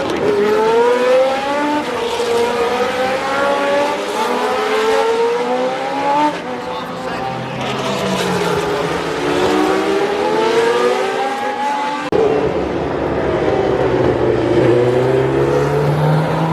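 Historic race cars at the Monaco Historic Grand Prix rise and fall in pitch as they accelerate and pass, loud and close, overlapping continuously with no pauses.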